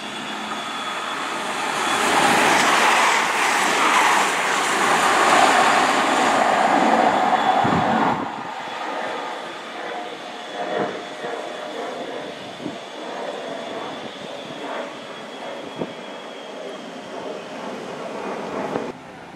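A high-speed CrossCountry Voyager passenger train roars past loudly through Yatton station for several seconds, then fades to quieter station ambience with faint clanks and distant noises.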